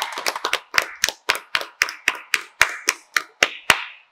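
A small group claps at a wedding ceremony, a crisp run of distinct, evenly spaced claps that sound close and fairly loud, with no talk over them.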